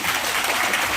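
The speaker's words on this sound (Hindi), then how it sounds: "जोरदार ताली बजाइए अपने लिए।" An audience at a training session on cow-based products in Azamgarh claps together in one brief, dense burst of applause, loud and close.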